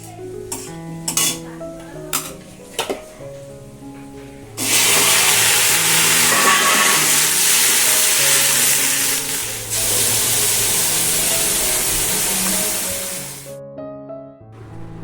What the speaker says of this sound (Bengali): প্রথমেই উচ্ছেগুলো ভালো করে ভেজে নিচ্ছি আর সমস্ত উচ্ছেগুলোই না একবারে দিয়ে দিয়েছি আঁচ কমিয়ে ভাজতে থাকলে